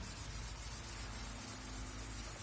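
Close, continuous abrasive scrubbing of an abrasive pad on the variator surface of an RKS Spontini 110 scooter, a rough and even rubbing hiss that holds steady throughout.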